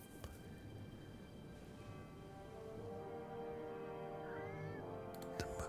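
Cat in the Foolish Mortals video game giving a short meow near the end over a quiet bed of game music and ambience, with a couple of faint clicks.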